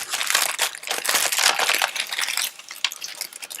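A plastic bag holding a model kit's parts is handled and crinkled, giving a continuous close, bright rustle with sharper crunches that eases slightly toward the end, with no talk.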